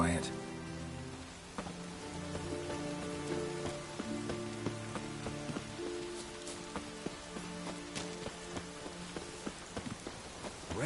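Steady rain hisses across a scene in The Witcher 3, with a sustained musical score and a few sharp ticks layered on top throughout.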